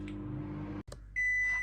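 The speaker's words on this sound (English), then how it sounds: "And we've beeped." A steady microwave hum cuts out, then a single sustained electronic beep from the microwave sounds loudly, close by, as it finishes steaming a spaghetti squash.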